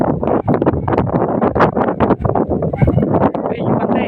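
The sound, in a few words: wind growing stronger by the river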